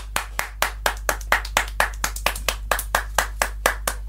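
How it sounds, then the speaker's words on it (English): A small group of people clap in a room at the end of a podcast recording, roughly twenty distinct, fairly regular claps close by, sharp and clear with no talk over them. "A round of applause, I feel."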